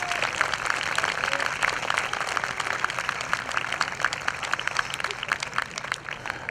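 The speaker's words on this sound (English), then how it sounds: "So how about another round of applause?" Round of applause from a concert audience at a spring youth orchestra ensemble concert, continuous moderate clapping from a crowd held at an even level throughout.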